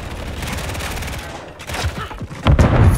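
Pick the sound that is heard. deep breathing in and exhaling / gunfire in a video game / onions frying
gunfire in a video game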